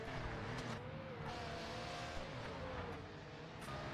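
A Supra race car in the Project Motor Racing game, GT500 class, engine droning steadily with shifting pitch, mixed with other cars and faint tire noise throughout.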